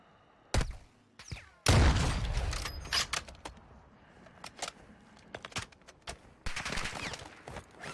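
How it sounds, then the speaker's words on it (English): Gunfire in the video game Call of Duty Warzone 2.0: scattered sharp shots and short automatic bursts, one loud sustained volley early on, then more sporadic cracks and bursts, fairly loud and unaccompanied by speech. "Taking effective fire!"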